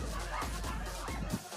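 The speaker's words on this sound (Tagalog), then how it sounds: "At may aso rin dito eh." A dog barks a few times in quick succession, fairly close, with a muffled, low-toned quality and a slight whimpering tail.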